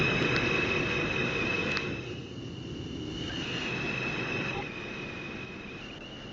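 A Manhattan-bound 1 train on the New York subway rumbling along the track, loud and close, with a steady metallic wheel squeal whining over the roar and briefly easing midway.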